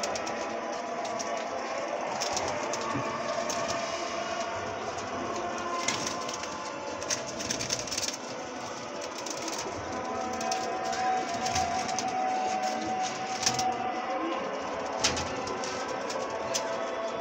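Pigeons in a new loft coo softly and steadily, with faint rustling and a constant background hum running beneath the birds.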